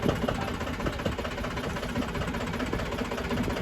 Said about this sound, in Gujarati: થોડુંક ટ્રેક્ટર ચાલુ હે ને એટલે અવાજ આવે છે એનો